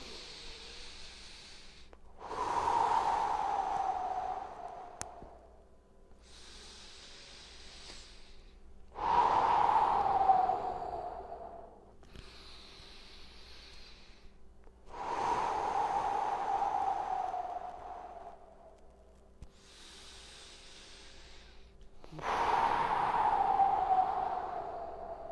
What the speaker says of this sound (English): Inhale on the way up. Exhale on the way down.